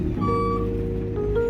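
A truck reversing at a loading site, its steady high reversing beep sounding over the low rumble of the idling engine.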